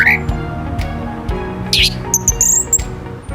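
A songbird kept as a hobby chirps in short, bright, scattered notes over a busy background of clinks and low knocks, with people talking nearby.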